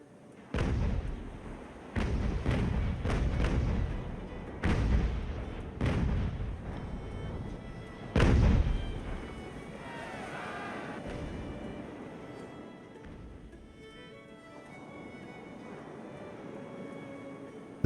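Cannon volleys from sailing warships in the naval game Ultimate Admiral: Age of Sail: a run of loud, sharp booming shots in quick succession, followed by quieter rumbling and battle ambience.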